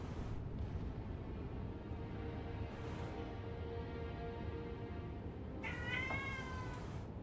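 A pet cat meows once clearly and loudly near the end, with a few fainter cries earlier, over a steady rumbling bed of Halo 3 game noise.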